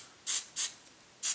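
Hairspray is sprayed onto model tree root material in three short hissing bursts, the first two close together and the third after a pause, close and alone.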